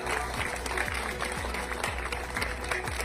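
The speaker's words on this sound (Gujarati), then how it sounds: "આપણે એકવાર જોરદાર તાળીઓ, બે ઊંચા રાખીને તાળીઓ પાડો" A crowd at a Thakor community gathering in Lunawada, Mahisagar claps together, producing dense, continuous applause with some rhythmic low thumps underneath.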